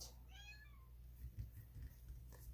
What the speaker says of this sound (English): Sorry, my big kitty